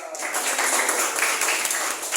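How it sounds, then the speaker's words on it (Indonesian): A classroom of students claps hands together in a brief burst of dense, even applause lasting about two seconds. "Tepuk tangan."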